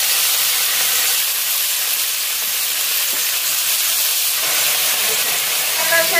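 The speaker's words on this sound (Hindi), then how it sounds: "तेल गर्म हो गया है तो चलिए हम बकुला को डाल देते हैं" Bakla (broad) beans sizzle in hot oil for a Bihari mustard-spiced sabzi, a steady loud hiss and crackle of frying running throughout with no talk.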